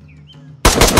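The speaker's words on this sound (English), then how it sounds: "Who's shooting?" Rapid automatic gunfire in the video game DayZ bursts in suddenly and loudly after a quiet moment, a dense rattling volley of shots.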